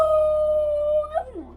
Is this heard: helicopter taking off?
no